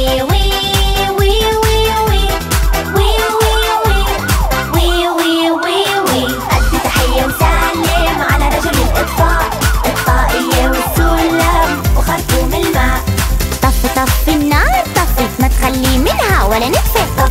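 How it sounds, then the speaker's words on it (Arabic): A fire engine siren wails, rising and falling over and over, blended into loud, busy music in a children's song that plays throughout. "كيف بتعمل سيارة الإطفاء؟"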